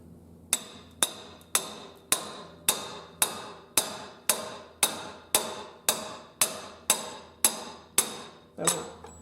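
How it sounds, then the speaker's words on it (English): A hammer taps an axle seal into the knuckle of a Jeep Wrangler YJ axle in fourteen evenly spaced, sharp metallic strikes at close range, each ringing briefly before the next. "Just give it a few taps here, see what I can do."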